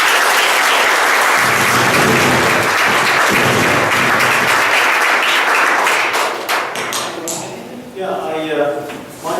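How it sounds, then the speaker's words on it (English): Applause from a township committee meeting audience, a loud steady wash of clapping that fills most of the clip, then thins out and gives way to someone speaking near the end. "They deserve a big round of applause."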